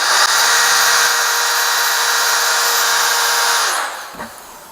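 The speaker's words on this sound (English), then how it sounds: "Here we're using a long, it's a 6-inch long carbide burr." A 6-inch long carbide burr spins in a power tool while porting an LS 243 cylinder head, a loud, steady, close high-pitched whine that holds for several seconds before winding down, followed by a faint click.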